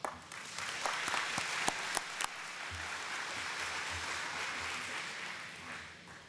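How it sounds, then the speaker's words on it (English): A room full of people claps steadily, with a few sharp individual claps standing out at the start, then the applause slowly fades. "Let's give Carly a round of applause."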